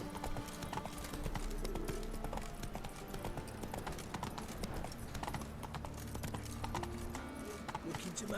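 Roach's hooves in The Witcher 3 keep a steady trotting clip-clop throughout, moderately loud against faint ambient background, with occasional speech.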